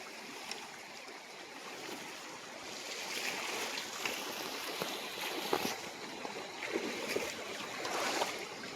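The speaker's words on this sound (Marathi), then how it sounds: "हे बघा हे पाणी आहे फुल." Monsoon floodwater rushes and flows steadily through the night during fishing in Konkan, a continuous close hiss of moving water that swells slightly louder with occasional splashes.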